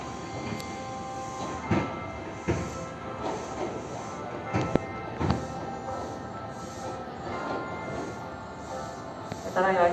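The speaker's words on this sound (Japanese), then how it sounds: "ただいま1番乗り場に到着したアンパンマン列車は同一路線の特急列車です。" Anpanman train standing at a station platform, with rail rumble, hiss and occasional clunks of railcars along the track through a steady murmur of station ambience.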